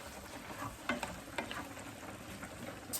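Shrimp simmer in a pan with lemon juice, giving a soft, continuous bubbling sizzle, quiet and close, with a few light ticks of spattering.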